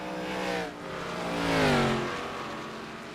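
NASCAR eSeries race cars at Darlington in a racing video game, engines whining past in two rising-and-falling sweeps as one car closes in to overtake, the second pass louder and nearer.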